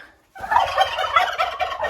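Turkeys in a greenhouse gobble repeatedly in a rapid, rattling chorus after a brief silence, several birds close by and fairly loud.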